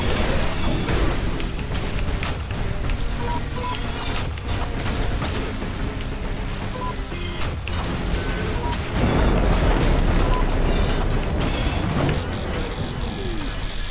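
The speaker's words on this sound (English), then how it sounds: "Are the Earth Mover explosions supposed to lag the game?" Dense video-game chaos of repeated Earth Mover explosions, loud continuous booms and crashes layered with whistling, streaking effects and mechanical clatter.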